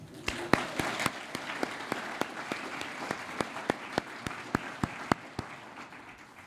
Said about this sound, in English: a round of applause for the band